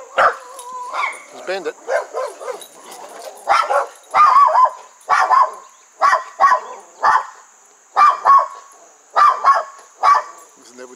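A dog barks repeatedly in short, fairly close bursts on a farm plantation, with people talking over and between the barks and a steady high insect-like whine running throughout.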